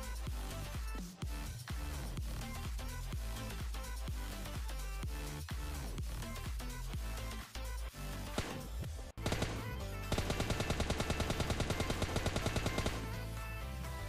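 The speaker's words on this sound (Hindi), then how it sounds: "तो इसको यार ऑटोगन से ही मारेंगे हम" Rapid automatic gunfire from an autogun in the mobile shooter PUBG Mobile Lite, dense, loud shots crackling in quick bursts, then a tight, evenly spaced stream of rounds near the end.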